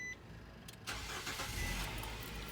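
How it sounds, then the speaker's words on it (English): A car engine cranks and catches about a second in, then keeps running steadily at close range, with no talk over it. "you go and you start the engine"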